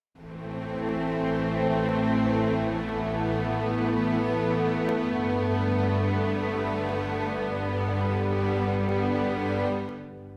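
A full, lush string ensemble from a free orchestral string sample library plays sustained, swelling chords with low and high layers together, steady and rich for about ten seconds before fading out.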